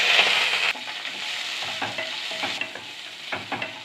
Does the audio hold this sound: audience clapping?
no